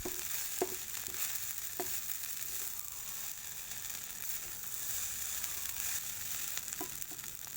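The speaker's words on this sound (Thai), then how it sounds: "แต่ว่าผัดใส่กระทะไฟฟ้านี่มัน เหมือนมันทำยากซะหน่อยนะ" Rice stir-fries in an electric pan with a steady close sizzle and crackle, broken by a few sharp scrapes and taps of the spatula; no voices.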